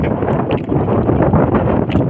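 Strong wind at sea buffets the microphone on a small boat, a loud continuous rush with gusty bursts and rumble, no voices over it.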